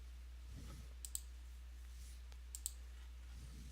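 A computer mouse gives two quick pairs of sharp, faint clicks, about a second and a half apart, in a near-silent room while modeling in OnShape.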